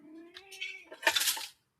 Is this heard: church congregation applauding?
no